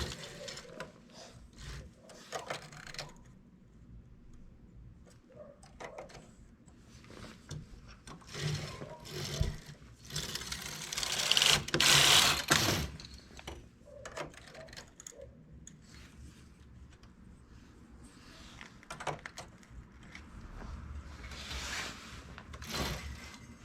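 A knitting machine runs with two yarns feeding each needle, giving repeated rubbing, clattering carriage passes with a louder burst near the middle, fairly close and without speech.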